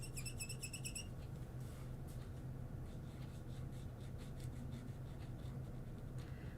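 Soft scratchy strokes of a marker moving across paper, steady and close, with a few brief high chirps near the start.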